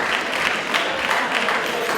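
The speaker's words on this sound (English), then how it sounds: "that's going to be a round of applause for an exciting elimination match there between both alliances" Audience applause at a VEX Robotics tournament after an elimination match, a dense, even patter of many hands clapping for a couple of seconds, fairly loud and continuous.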